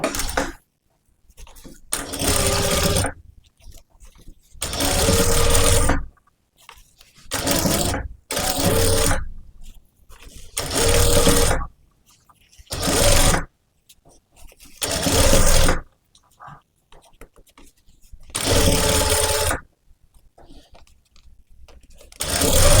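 A sewing machine stitches a blouse neck finish in about nine loud, steady whirring runs, each a few seconds long and separated by short quiet pauses.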